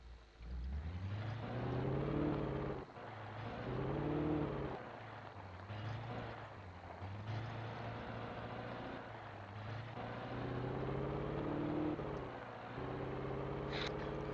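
Car engine in the video game Alan Wake, droning steadily and repeatedly climbing in pitch then dropping as it accelerates and shifts, with no talk over it.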